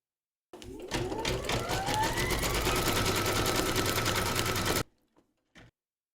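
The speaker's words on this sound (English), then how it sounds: "Pop your hoop into your machine and stitch round number 5 to secure it." An embroidery machine stitches round number 5 on a hoop for a Valentine and birthday gift card holder, a steady loud rapid stitching run that stops abruptly, followed by a couple of faint short clicks.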